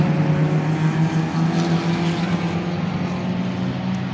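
A race car at a Lemons endurance race at Carolina Motorsports Park drones steadily past trackside at turn 1, a loud sustained engine note with a low harmonic hum holding throughout.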